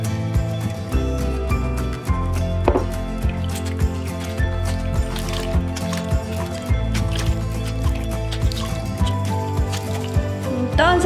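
Water is squished and dribbled into curly hair in the bowl method, giving soft wet squelches and drips in a fairly steady, close rhythm.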